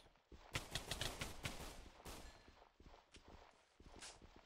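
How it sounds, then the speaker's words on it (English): Fireworks bursting in Minecraft, a series of sharp crackling pops and bangs in quick succession at close range, with no talking over them. "Oh, fireworks."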